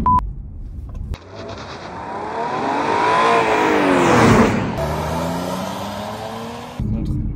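An Audi A6 sedan on a test drive accelerates hard, its engine note climbing steadily in pitch and loudness before easing into a steady drone, heard close from the car.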